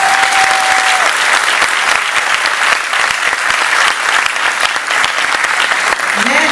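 A commencement audience applauds loudly and continuously, dense clapping filling the hall from start to finish.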